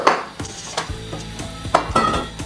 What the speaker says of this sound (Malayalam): നമുക്കൊരു ഇഡ്ഡലി പാത്രം വെച്ച് കൊടുക്കാം